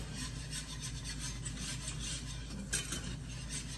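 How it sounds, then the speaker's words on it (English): Steady scraping and rubbing of a whisk stirring a mixture in a pan over low heat, a continuous close rasping texture with a soft low hum underneath and no talking. "Start to whisk it together so it breaks up evenly"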